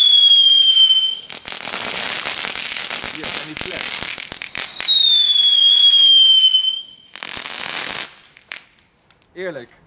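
Crackling fireworks burst in loud dense bursts of snapping crackle, interrupted by a whistling shot, then fade out with a brief voice at the end.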